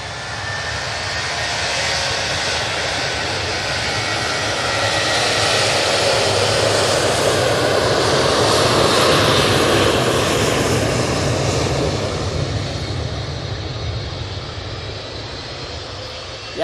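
A Ryanair jet airliner departing Manchester Airport makes a broad engine roar that builds to a peak midway, then slowly fades as it moves off, with faint talk nearby.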